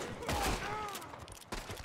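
Chaotic gunfire from many shooters in Red Dead Redemption 2, several sharp overlapping shots in quick bursts, fairly quiet and brief, with voices mixed in.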